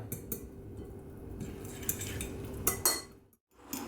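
Couscous semolina soaked in hot water being stirred in a bowl, with close scraping and several sharp clinks of a utensil against the dish, briefly pausing near the end.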